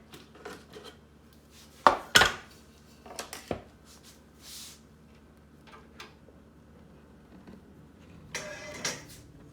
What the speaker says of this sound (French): donc j'ai inséré le fouet